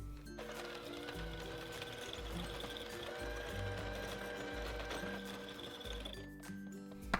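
Softened unsalted butter and sugar being creamed together in a bowl, with a steady, moderately loud electric motor whir that runs almost without a break and drops away briefly near the end.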